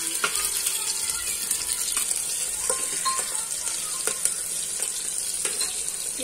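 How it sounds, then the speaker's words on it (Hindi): Onions fry golden for pulao in a pan, giving a steady close sizzle with occasional clinks and stirring scrapes throughout, with no speech over it. "गोल्डन हुए तक हम फ्राई करेंगे इसको"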